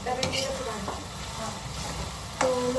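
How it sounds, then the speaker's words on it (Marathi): Turmeric being stirred into a frying mixture in a pan, with a steady close sizzle throughout, a few utensil scrapes, and a brief tonal clink near the end. "आता हळद टाकली आपण थोडंसं मिक्स करून घेऊ"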